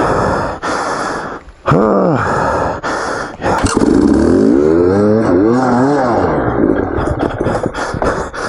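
Beta Xtrainer dirt bike engine on a rock climb at Hell's Gate, Moab: loud, close, rising and falling revs with repeated throttle surges and brief drops, mixed with rider strain.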